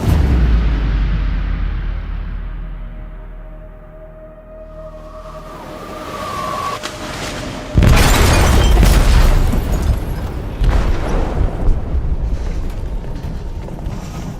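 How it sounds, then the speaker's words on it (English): A bomb detonates inside the hold of a ship in Detroit: Become Human, a sudden heavy boom about halfway through that leaves a rumbling, crackling aftermath under the low hum of the vessel, with a second surge of debris noise following. "They detonated an explosive in the hold."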